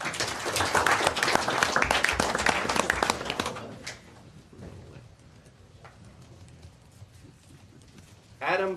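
Audience applause at a council meeting, a dense burst of clapping for about three and a half seconds that then drops off to quiet room noise with a brief louder sound near the end.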